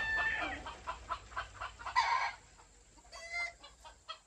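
Gamefowl chickens clucking while roosters crow in competition, several overlapping calls rising and falling over a few seconds, fairly faint and outdoors, with no speech.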